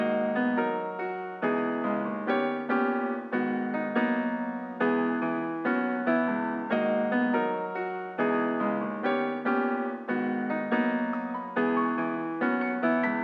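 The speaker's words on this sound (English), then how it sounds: "so let's go for the piano. It sounds like this." Piano chords played in a steady repeating rhythm, rich sustained harmonies struck roughly every half second, with a smooth, jazzy colour.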